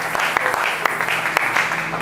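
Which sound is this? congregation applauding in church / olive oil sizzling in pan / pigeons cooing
congregation applauding in church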